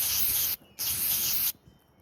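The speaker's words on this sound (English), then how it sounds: "We're gonna open that throttle and spray into there as well with that throttle open." Two sharp hissing bursts of aerosol carburetor cleaner sprayed into the open throttle of a Craftsman weed whacker carburetor, each lasting about half a second to three quarters of a second, close and loud with a short gap between.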